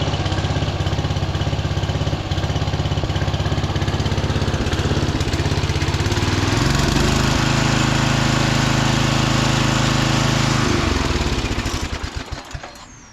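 A Craftsman PYT 9000 lawn tractor from 2011 runs loud and close with a steady engine drone. It revs up partway through and holds, and its idle sounds a little uneven before the engine winds down at the end.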